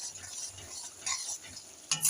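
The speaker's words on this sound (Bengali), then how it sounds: "আবারও আমি একবার নেড়ে দেবো।" Spices being stirred in oil in a pan for a Bengali silver fish curry, a soft sizzle with a few scraping stirs, the last one louder near the end.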